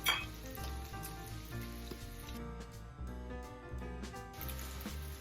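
Panko-encrusted haddock fillets sizzle and crackle steadily in a hot frying pan, a continuous close, moderately loud frying hiss with small pops throughout.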